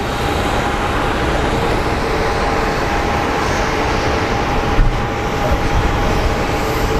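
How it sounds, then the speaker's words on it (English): Small Embraer regional airliner arriving at Phoenix Sky Harbor airport, a steady, loud broadband jet roar holding level throughout with a faint whine riding on top. "Now we have a little Embraer coming in."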